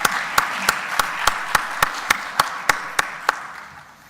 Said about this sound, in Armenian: Ծափահարենք պարոն Սիմոնյանին